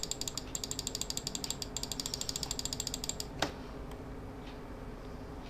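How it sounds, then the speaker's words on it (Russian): Rapid mouse-style clicks from a campfire clicker game, a steady fast run of light ticks for about three seconds, then a single sharper click and quiet. "Кликаем."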